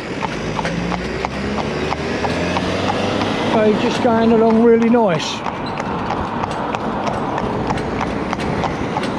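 Frankie, a cob horse, trotting with steady rhythmic hoof clip-clops close by, while someone talks over the hoofbeats throughout.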